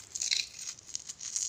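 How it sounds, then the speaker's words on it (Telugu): Crisp fried flattened rice (atukulu) gives soft, close crinkly crunching and rustling in quick uneven bursts, fairly faint, with no talking. "చూడండి ఇలాగా కరకరలాడుతుంది."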